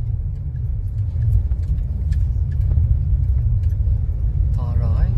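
A Toyota Innova overtaking on the road, heard from inside as a loud, steady low engine and road rumble, with a brief voice near the end.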